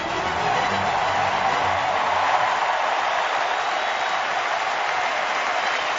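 A baseball crowd at the MLB All-Star Game in San Diego cheering and applauding, a sustained wash of clapping and cheers heard from within the stands, steady and moderately loud.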